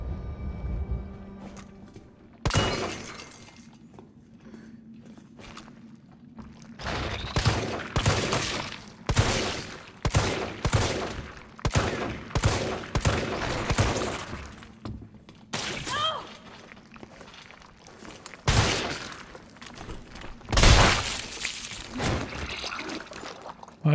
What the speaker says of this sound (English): Maybe we must shoot in different parts of body,